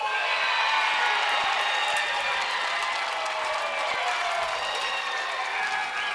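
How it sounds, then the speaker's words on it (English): Spectators applauding at a professional pickleball doubles championship, a sustained, even wash of clapping and light cheering from a crowd, steady and moderately loud throughout. "You're hearing a fair amount of applause."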